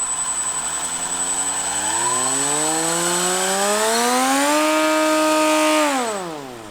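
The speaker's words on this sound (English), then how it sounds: "Specs for this motor that we are using in the doohickey with this propeller on a 3-cell battery" An electric motor on a 3-cell battery spins a contra-rotating propeller on a thrust test rig. It gives a loud, close, steady whine that climbs in pitch, holds near full speed, then winds down at the end.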